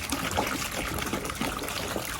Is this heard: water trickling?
yes